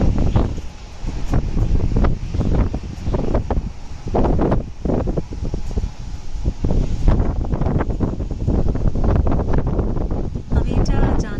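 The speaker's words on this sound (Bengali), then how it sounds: "আই হোপ অনেকটাই মানে হাওয়ার আওয়াজটা বোঝা যাচ্ছে কত জোরে" Strong storm wind gusting outside a window, loud buffeting roars and rumbles with repeated sharp gusts pressing on the microphone throughout, steady and close.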